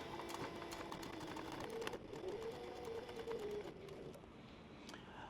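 Sewing machine stitching around a canteen purse, a steady close mechanical whir with rapid needle clatter running the whole time, no talking.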